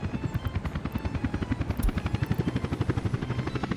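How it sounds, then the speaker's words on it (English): A worn-out demolition helicopter in the Workers and Resources game, its rotor throbbing in a fast, even, loud chop that stays close and continuous throughout. "Very worn out demolition helicopter."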